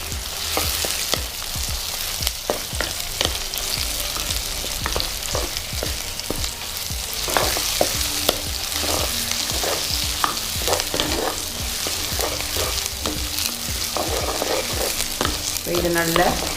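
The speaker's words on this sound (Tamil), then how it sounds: "இது நல்ல ப்ரௌன் கலராக வரக்காட்டி இது நல்லா வதக்கி கொள்ளுங்க." Curry leaves are sautéed in hot oil for a Sri Lankan chicken curry, with a dense, constant sizzle close by and a rapid run of stirring scrapes and taps throughout.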